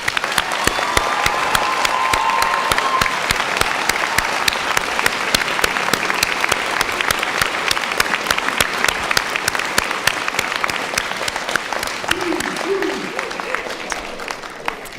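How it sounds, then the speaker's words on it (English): A large graduation-ceremony audience at a Winter 2022 School of Health and Society ceremony gives graduates a sustained round of applause, dense and loud clapping filling the hall for the whole stretch, with a few voices briefly audible near the end. "Please can I ask you to join me in giving them all a big round of applause"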